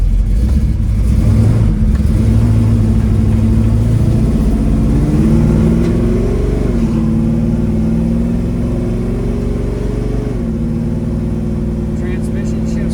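Steady engine drone from a moving 1969 Chevrolet Chevelle SS with a 396 big block, rising slightly as it accelerates, loud and continuous throughout.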